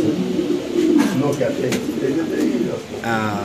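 Spanish pigeons coo steadily, close by, while people talk over them.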